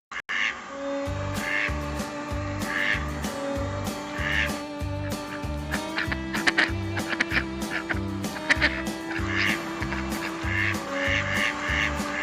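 A duck quacks repeatedly in a steady rhythmic pattern, fairly loud and close, over a droning musical backing.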